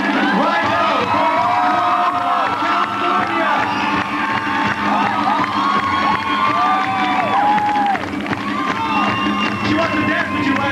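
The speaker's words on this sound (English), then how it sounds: "Come on, give him a round of applause of encouragement" Luau crowd cheering, whooping and shouting continuously for a performer named Rydell as drums begin on stage, a dense lively roar with a voice talking over it.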